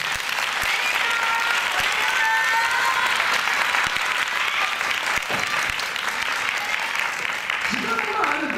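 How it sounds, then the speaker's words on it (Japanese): Sustained applause from a crowd at a dance contest awards ceremony, as the year's grand champion is announced, with dense steady clapping throughout and faint voices mixed in near the end. "大きな拍手をお願いします"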